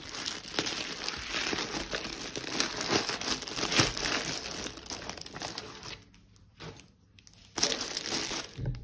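Plastic packaging from an AliExpress parcel crinkles and crackles steadily up close as it is torn open, with a brief quieter lull before the rustling resumes.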